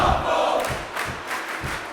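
A wrestling crowd in the Smackdown vs. RAW 2011 video game during an Evan Bourne versus The Miz match roars and chants, with rhythmic thuds and cheering surges over the arena din.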